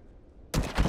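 A burst of rifle fire from The Last of Us Remastered breaks out suddenly after near-silence, a loud rapid cluster of shots lasting under half a second.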